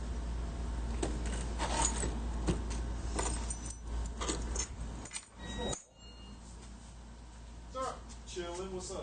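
Medeco keys jangle and clink in bright, repeated bursts as they are hung back up, close and busy, with speech underneath and a low vehicle hum in the background.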